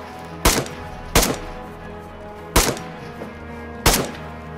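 Loud gunshots in the video game DayZ: four sharp, separate cracks spaced about a second apart, each with a short decaying tail, over a quiet background hum.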